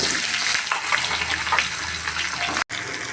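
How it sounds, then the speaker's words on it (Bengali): Washed vegetables hit hot oil in a wok and sizzle in a loud, continuous hiss close by that barely wavers, broken by one brief dropout near the end, with no talking. "তেলটা ভালো করে গরম হয়ে গেছে এবার ধুয়ে রাখা সবজিগুলো সব এর মধ্যে দিয়ে দেবো"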